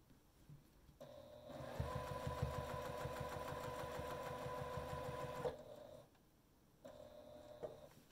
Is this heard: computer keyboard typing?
no